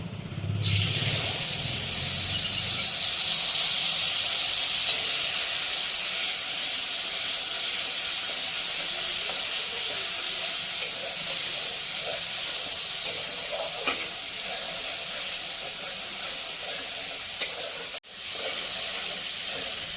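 Spice paste dropped into hot oil in a pan for a curd and pointed gourd dish, bursting into a loud, steady hiss and sizzle that fills the whole stretch with little change.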